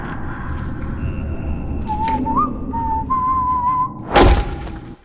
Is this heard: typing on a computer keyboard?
no